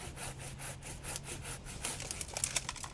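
A hand saw cuts into the underside of a garden tree limb, steady rasping back-and-forth strokes with a quick even rhythm, fairly faint and close, with no talking.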